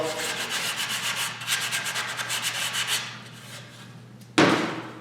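Hand sanding the top, back and edge of a wooden workpiece with 220-grit sandpaper: steady rhythmic back-and-forth scratchy strokes close by, easing off near the end before a sharp louder bump.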